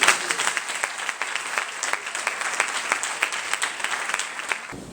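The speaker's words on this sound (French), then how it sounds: "Sincèrement, il faut applaudir cette fille" A student gathering's audience breaks into sustained applause, loud and close, with many individual claps standing out before it cuts off abruptly.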